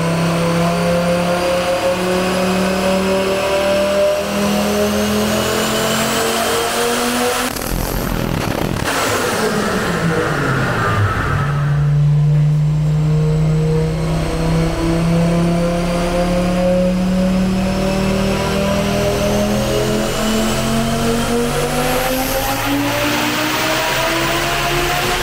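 A highly tuned Audi S2 Coupé five-cylinder engine revving on a dynamometer, loud and continuous, climbing steadily through the gears with a brief dip and gear change midway before rising again, no talk.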